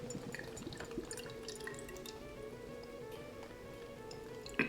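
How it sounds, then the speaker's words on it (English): Ace guava cider poured from a can into a glass, a quiet, steady trickle of liquid with faint fizzing and drips, ending with a brief louder clink. "Let me go ahead and pour this bad girl."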